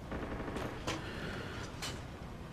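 Tank crew machine-gunning infantry in the Arma 2 combat game: a quiet, distant rattle of rapid gunfire with a couple of sharper bursts over a constant noisy background.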